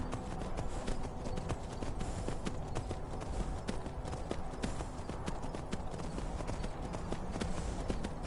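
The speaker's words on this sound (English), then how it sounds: "My horse is Spider-Man." Horse hooves clip-clop in the video game Skyrim VR in a fast, steady rhythm throughout, loud and continuous over a dense background of noise.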